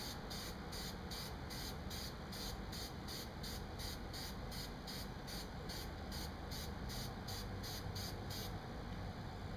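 Short bursts of aerosol spray paint hiss in a quick, even rhythm on toy swords, close and steady, then stopping just before the end.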